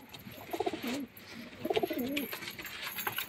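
Siraji pigeons coo softly nearby in two short, rolling phrases about a second apart, against quiet background noise with no talking.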